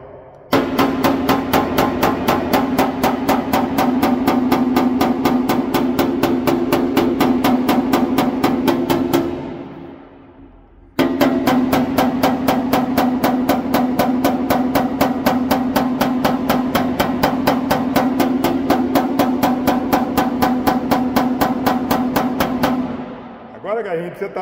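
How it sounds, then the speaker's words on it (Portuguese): A homemade hammer tapping down a dent in car bodywork in rapid, even metallic strikes, loud and close, running for about ten seconds, pausing briefly, then resuming at the same pace. "Vou abaixar ela com martelo caseiro, ó."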